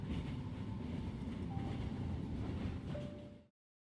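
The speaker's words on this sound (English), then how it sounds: "You're inside a train, though." Steady low rumble inside a train in a video game, with a faint metallic whine rising briefly before the sound cuts off abruptly.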